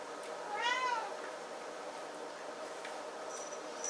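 A cat gives one short, rising meow near the start, fairly faint against a quiet indoor room, followed by soft background hush.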